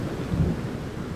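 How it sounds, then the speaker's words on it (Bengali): A cartoon storm effect of a dark night with wind and rain, a low rumble of thunder rolling over a steady rain hiss, short and fairly loud. "আকাশ বেশ ঘন কালো মেঘে শুরু হয় বাতাস আর বৃষ্টি।"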